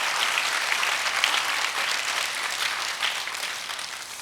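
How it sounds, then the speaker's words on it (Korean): Enthusiastic applause from a crowd, dense and sustained clapping that holds steady before easing slightly at the end. "한번 박수로 기쁨을 표현해 주십시오"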